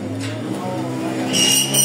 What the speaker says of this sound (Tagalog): Grabing ingay ng motor na yun ah.